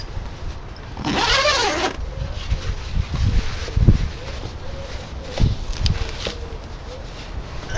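A zipper is pulled open on a sodden Dutch Army tent, close to the listener, as one brief rasping burst followed by scattered handling and rustling noises.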